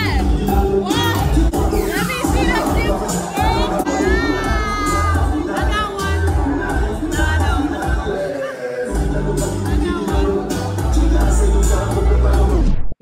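A dense, loud crowd fills a club bar on a busy strip, with overlapping chatter, shouts and music blending into a constant roar.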